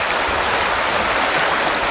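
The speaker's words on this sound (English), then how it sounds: "this is where the creek that flows out of Ben's Lake" A creek in the Canadian wilderness flows out of a lake into a lagoon, producing a steady, close rushing and splashing of water with no voices.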